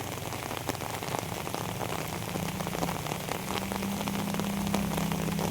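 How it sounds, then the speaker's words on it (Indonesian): Steady rain falls during a downpour near the Kali Gendong river in Cibitung, a dense continuous patter on surfaces with no talking, loud and unbroken throughout. "Oke, sebagai informasi saat ini masih hujan ya, sekali lagi masih hujan, kondisinya masih hujan"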